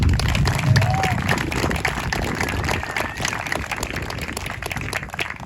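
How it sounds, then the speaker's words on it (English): Crowd applause and cheering fill the stands at a high school football senior night ceremony, a steady broad roar of clapping that runs throughout without a break. "let's give a thunderous applause for senior wide receiver, number 10, Dustin Hensey"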